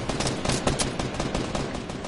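Close, dense gunshots in the battle royale game Fortnite, a quick rattling burst of rapid shots filling a brief moment, loud and without talking.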